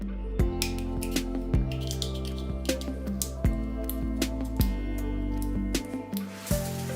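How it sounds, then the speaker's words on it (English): Scissors cut a ping pong ball into small pieces, with repeated crisp snips and cracking plastic at an uneven pace, close and alone without talk. "we will take the ball and use scissors to cut it into small pieces"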